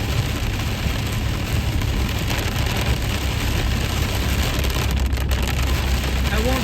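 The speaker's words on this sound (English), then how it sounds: "I won't say nothing, but look at the rain." Heavy rain pouring down outdoors in rainy weather, a steady dense wash of noise that holds constant and loud throughout with no gaps.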